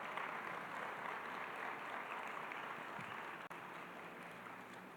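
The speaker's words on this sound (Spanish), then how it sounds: "recibimos con un aplauso al maestro Jaime Labastida Ochoa" An audience at a lecture during a book fair applauds to welcome Jaime Labastida Ochoa, a dense, steady wash of many hands clapping together, sustained and even throughout.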